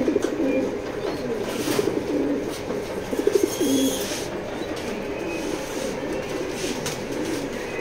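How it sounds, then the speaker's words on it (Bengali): A young pigeon coos softly in repeated low burbling calls over a steady background rumble, with no talk. "24-এর কবুতর, ইয়াং কবুতর"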